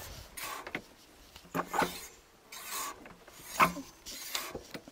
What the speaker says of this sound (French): S'il n'y a pas de bruit anormaux, à part juste les plaquettes qui touchent un peu